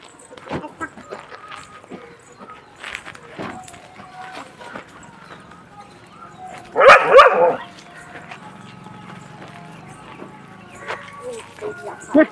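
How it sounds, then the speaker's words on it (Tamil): A dog barks in a short loud burst partway through, over a noisy outdoor background with people talking faintly. "நாய் வீட்டுக்காரர் அழைக்கலையா கூட நாய் அழைக்குது"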